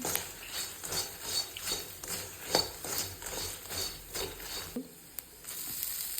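Spices stirred into frying idli mixture in a pan, with a soft sizzle under irregular scraping spoon strokes against the pan, close but fairly quiet, with no talking.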